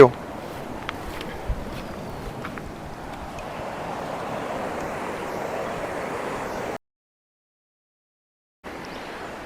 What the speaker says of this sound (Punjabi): ਇਹ ਨਹਿਰ ਆ ਜਿਹੜੀ ਇਹ 25 30 ਫੁੱਟ ਡੂੰਘੀ ਆ ਪਾਣੀ ਇਹਦਾ ਕਾਫੀ ਤੇਜ਼ ਆ